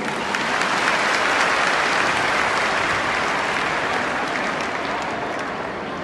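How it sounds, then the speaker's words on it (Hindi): An audience of residents' welfare association members at a Delhi meeting claps loudly and continuously for several seconds, a dense, even wash of applause that eases slightly toward the end. "सबके लिए जोरदार ताली बजा दीजिए।"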